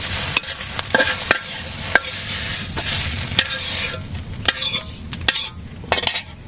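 Potatoes for aloo bhaji sizzle in a pan while a spatula stirs and scrapes, giving repeated sharp metallic knocks and clinks over a steady frying hiss, close by.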